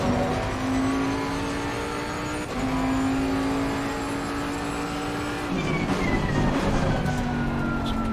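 In Assetto Corsa Competizione, a GT3 race car with a bassy V8 holds a droning engine note, then downshifts with a sharp drop in pitch and rising revs and some crackle.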